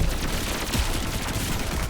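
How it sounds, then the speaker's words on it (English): In the video game Pathogenic, a big explosion erupts into a dense, continuous roar of blasts and crackling gunfire-like bursts, loud and sustained throughout with no voices. "Whoa, big explosion."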